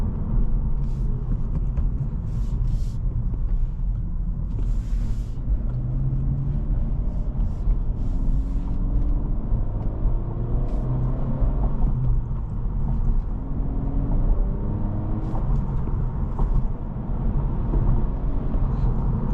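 2026 Acura Integra A-Spec with a 6-speed manual driving on the road, a steady low engine and road rumble inside the cabin with gear shifts and faint clicks.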